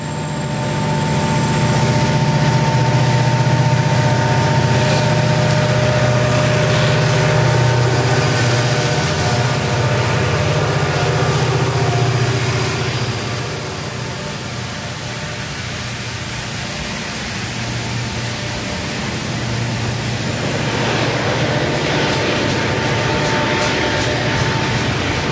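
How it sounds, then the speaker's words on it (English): Rumbling of a manifest freight train descending a mountain grade toward Manchester in the Run 8 train simulator, a steady low roar with faint wheel noise that softens midway and swells again, continuous and without talk. "a manifest freight is descending the grade into Manchester below, but in run 8"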